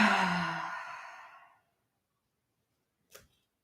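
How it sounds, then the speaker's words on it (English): A long, breathy exhale during a yoga flow starts strong and fades gradually over about a second and a half into silence, followed by a brief faint click. "Let a breath go."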